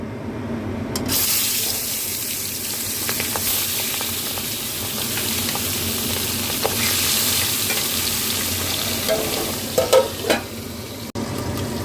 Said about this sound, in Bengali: এই ট্যাংরা মাছ নুন হলুদ মাখিয়ে রেখেছি, এই এবার ভেজে নেব